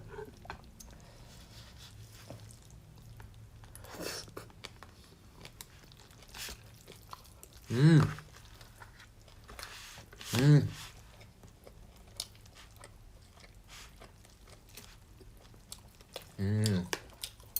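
Chewing on beef brisket (chadolbagi) during a casual meal, with a few distinct crunchy bites standing out over a low steady background hum and occasional quiet talk.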